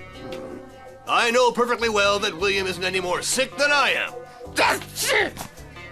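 A cartoon character sneezes once, briefly, in the middle of lively spoken dialogue from an animated series, close and clear amid the voices.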